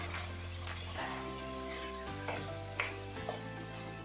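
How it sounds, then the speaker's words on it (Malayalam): Paneer strips are stirred into Schezwan sauce in a hot pan for a paneer roll, a soft steady sizzle with a few light scraping stirs over a low background hum. "പനീർ കൂടി ഇട്ട് മിക്സ് ചെയ്യുക."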